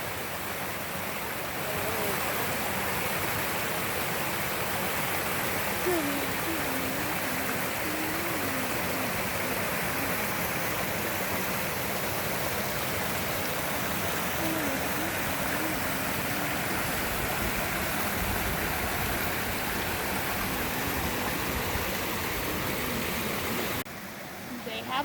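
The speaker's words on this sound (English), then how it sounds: "Beautiful creek water too." A flowing creek on a Montana camping trip makes a steady, close rushing of water throughout, with faint voices in the background.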